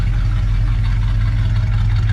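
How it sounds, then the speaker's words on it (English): A 1972 Ford F-250 Sport Custom Camper Special idles with a deep, steady low rumble from its dual exhaust with turbo mufflers, close and loud with an even pulsing throb. "It does have dual exhaust on it with turbo mufflers. So if you heard that little rumble in the back"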